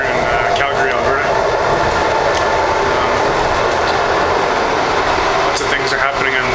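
Loud interior rumble of a moving train in Calgary, Alberta, with steady rolling roar, faint rhythmic wheel clatter and squeals, under a voice speaking throughout.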